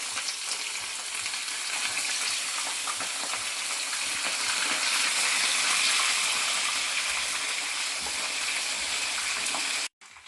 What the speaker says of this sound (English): Now I'm just going to go ahead and fry the remaining.